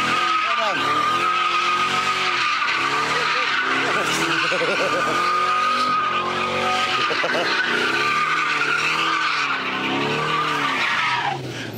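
A car's tires squeal in a long, continuous burnout screech while its engine roars and revs in surges, loud and close, with voices faintly underneath.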